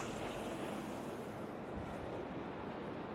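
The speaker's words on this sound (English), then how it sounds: "Now you can hear the ocean that we're outside" Steady ocean surf rolls in the distance as a continuous broadband wash, heard from an outdoor condo balcony at Ponce Inlet, Florida, with light wind buffeting the microphone and no talking.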